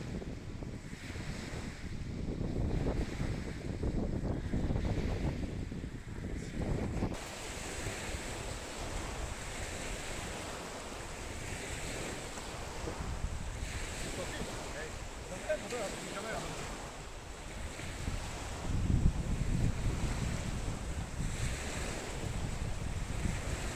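Gusty wind blowing over a lake during a fishing trip, a steady loud roar with buffeting microphone noise and lapping water, rising in gusts near the end.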